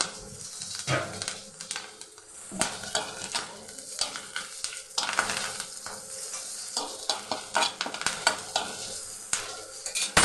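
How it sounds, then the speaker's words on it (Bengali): Panch phoron, bay leaf and green chilies sizzle in hot oil, a loud close crackle broken by repeated sharp scrapes and stirring knocks of a spatula against the pan. "এবারে সেই তেলের মধ্যে একটু পাঁচফোড়ন দিয়ে দেবো তেজপাতা দিয়ে দেবো চার পাঁচটা কাঁচা লঙ্কা দিয়ে দেবো"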